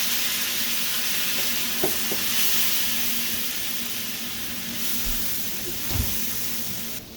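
Garlic butter shrimp sauce with fish sauce, garlic powder and sugar stirred in a hot pan: a continuous loud sizzle and hiss with a couple of soft utensil knocks, no speech.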